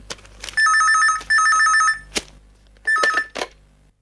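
A telephone at a police station rings in three loud electronic bursts, the first two back to back and the third after a pause. Sharp clicks and knocks fall between the rings.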